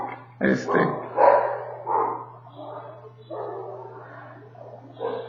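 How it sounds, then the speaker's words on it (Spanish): Several dogs bark and yip in short bursts, somewhat distant, over a steady low electrical hum. "Mis perros están ladrando mucho."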